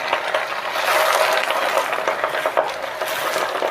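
Fresh gongura leaves fry in a pan with a steady, busy sizzle and crackle, continuous and fairly close, with no talking over it.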